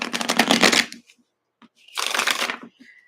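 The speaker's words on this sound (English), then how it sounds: "Last little shuffle here." Two brisk bursts of a deck of playing cards being shuffled close up, each lasting under a second, separated by a short quiet gap.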